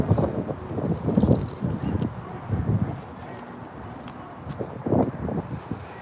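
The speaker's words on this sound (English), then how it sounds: "Oh, it's windy." Gusty wind buffets the microphone in rumbling bursts at an anti-war protest outside the Wilshire Federal Building, Los Angeles, rising and falling over several seconds.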